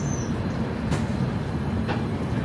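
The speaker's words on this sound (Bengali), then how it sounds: "পৌঁছে গিয়েছে আমাদের ট্রেন শিয়ালদা থেকে বিকানের" The Sealdah-Bikaner Duronto Express pulls into Bikaner, a steady heavy rumble of rolling carriages with a couple of brief metallic clanks, continuous and fairly loud.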